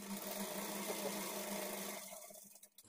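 A sewing machine runs steadily for about two seconds, stitching lining blouse pieces at a quarter-inch margin, a quiet, even whir that then slows and stops.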